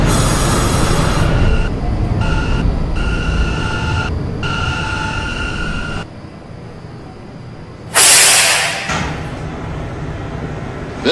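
A New York City subway train idles at its terminal station with steady loud rumble and tonal motor hum, chimes and tones stepping on and off, then a sharp burst of air hiss around eight seconds before the hum continues.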